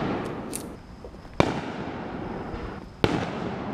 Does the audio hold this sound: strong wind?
no